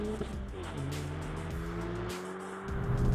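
A Hyundai i30 N launches with launch control, its engine note climbing in rising tones with a brief tire squeal, loud and close, and revving again at the end.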